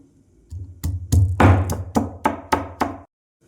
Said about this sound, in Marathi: फोडणीसाठी लसूण ठेचून घेऊ